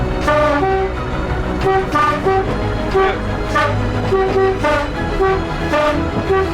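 A Class 117 diesel train horn sounds repeatedly in short two-tone bursts, loud and close over a rumbling idling engine, forming a playful rhythmic pattern.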